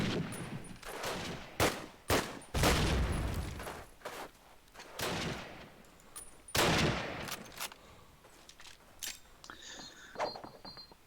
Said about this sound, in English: As both the snipers take down each other.